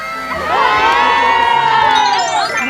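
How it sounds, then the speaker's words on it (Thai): A loud crowd of a bride's friends shouting and cheering together at a wedding, a sustained, high-pitched group yell lasting a couple of seconds. "ตะโกนดังๆให้พี่บิวได้ยินจนไปถึงข้างในเลยค่ะ"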